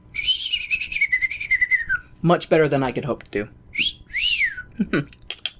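A person imitating bird whistling, with a wavering high whistled trill lasting about two seconds, then someone speaking, then a few more short whistled chirps between bits of talk.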